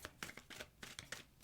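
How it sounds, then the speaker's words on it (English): Tarot cards are shuffled by hand in quick, crisp riffling bursts, about half a dozen short papery flicks in close succession, near and fairly quiet. "I'm just going to shuffle a bunch of times"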